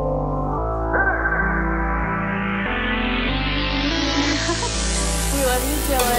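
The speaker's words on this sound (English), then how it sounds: "you should get a rage beat that sounds something like this" A loud, continuous rage-style beat with heavy bass and synth chords, muffled by an underwater-style EQ filter that gradually opens, so the sound brightens steadily across the stretch. No voice is heard.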